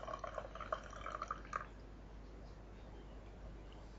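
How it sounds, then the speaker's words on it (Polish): Hot water poured from a kettle into a coffee mug holding instant coffee, a faint, close trickle with small bright splashes that fades into quiet room noise after about two seconds. "Wleję wody."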